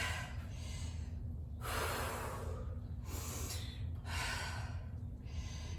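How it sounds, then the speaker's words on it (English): Heavy breathing from a person resting mid-workout before squats, close and rhythmic inhales and exhales repeating about every second and a half, quiet with no talk. "To focus on slowing down my breathing."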